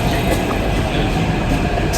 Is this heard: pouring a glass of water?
no